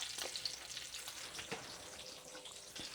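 Bacon frying in a pan for crescent roll breakfast recipes, a steady crackling sizzle with sharp pops and spits scattered throughout, close and continuous with no talk.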